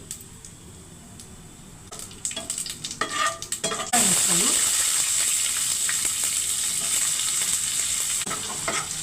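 Cumin and mustard seeds drop into about three tablespoons of hot oil and burst into a loud, steady sizzle that carries on alone, with a few stirring clinks before it.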